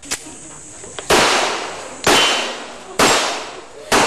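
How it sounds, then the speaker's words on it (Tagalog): Four sharp gunshots from a handgun at a firing range, evenly spaced about a second apart, each a loud close crack with a short decaying tail. No talk between the shots. "Nagpakitang gila si Alger sa paghawak ng baril at pag-asinta sa mga target."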